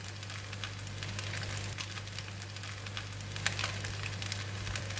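Lap cheong fried rice, made with Chinese sausage, sizzles softly in a pan as it is stir-fried, a steady close hiss with light scraping of the mix.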